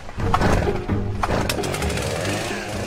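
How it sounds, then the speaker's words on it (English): A chainsaw cuts trees while a woodsman thins out woodland, running as a loud, close, continuous roar with steady engine revving throughout. "we should be able to thin that out with Dave's help and his chainsaw"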